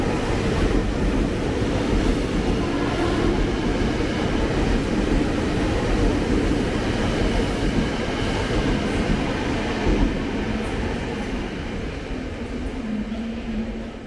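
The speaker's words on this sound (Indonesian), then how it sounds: "Ada kereta KRL lagi. Ini dari arah Tanah Abang." KRL commuter train coming in from the Tanah Abang direction at BNI City station in Jakarta, a loud continuous rumble and roar that swells and then slowly eases, with no talking.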